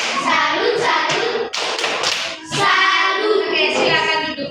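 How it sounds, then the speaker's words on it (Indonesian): A classroom of Indonesian students performs the tepuk salut clapping routine, a rhythmic pattern of loud, close hand claps and thumps broken by short pauses, with voices chanting along over the beats. "Oke, tepuk salut untuk kelompok 3."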